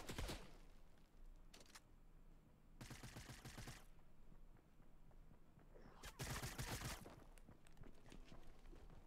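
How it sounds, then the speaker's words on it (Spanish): Bursts of rapid gunfire crackle in three separate volleys in Fortnite, sharp and loud against a quiet backdrop. "Escucho balazos."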